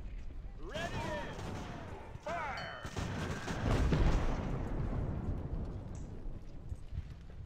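Cannon volley from an Age of Sail naval battle game: booming artillery shots with a deep rumbling roll, mixed with game voices and distant battle din.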